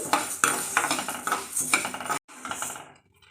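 Dry horse gram seeds roasting in a pan while being stirred, giving a continuous gritty rattle and scraping of hard seeds and a utensil against metal, close and fairly loud, then a sudden cut and a fading tail.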